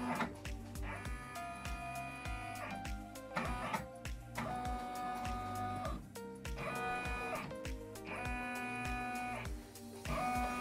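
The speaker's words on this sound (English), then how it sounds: "I'm going to do a quick scoot around to make sure the design is going to stay in within the hoop" An embroidery machine moves its hoop around the design outline, producing repeated bursts of whirring, stepping motor noise separated by brief pauses, close and fairly quiet.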